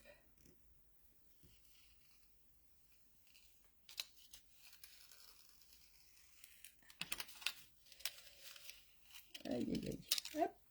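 Masking paper torn by hand during a papercraft session, a few short crisp rips and crinkles near the end after quieter rustling, with soft speech in the background.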